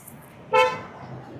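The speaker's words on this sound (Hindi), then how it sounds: "चलो गाड़ी हो गई लॉक।" A Hyundai Creta SUV being locked, giving one short, bright horn chirp nearby against quiet outdoor background noise.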